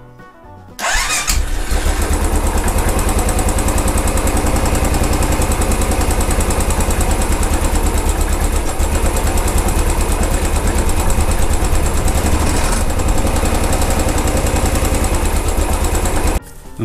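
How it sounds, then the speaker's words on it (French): A Royal Enfield 500 Bullet EFI motorcycle engine starts with a brief crank and settles into a steady, loud, rapid idle that runs on without change, then cuts briefly. "Donc démarrer le moteur, la faire tourner à 1 ou 2 minutes"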